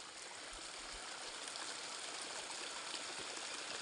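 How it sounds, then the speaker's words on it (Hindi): Water flows steadily through a hillside farm field in a Uttarakhand mountain village, a soft continuous rushing and trickling with no breaks, moderately faint and heard alone. "इस खेत में पानी आगे बढ़ेगा"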